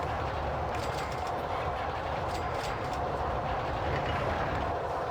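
In RollerCoaster Tycoon Classic, a roller coaster train runs with a continuous rumbling rattle, steady and fairly loud, and dense clicking clatter throughout.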